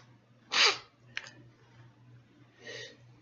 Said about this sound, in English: I made it almost an hour without sneezing.